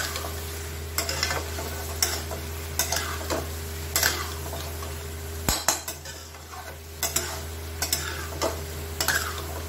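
Cut paneer stirred into an onion masala gives a steady, rhythmic scrape and clink of a spoon against the pan, a light sizzle and a constant low hum.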